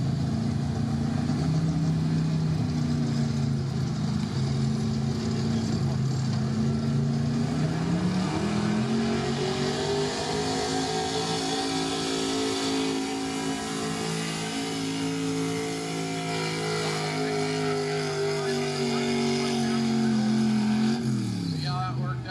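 A 2000 Ford F250 gas pickup pulling a sled at a street gas truck pull in Lebanon, Pennsylvania: the engine drones loud and strained, its pitch climbing and holding under load before dropping off near the end, with an announcer talking over it.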